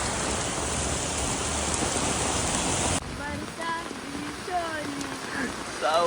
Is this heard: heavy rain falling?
yes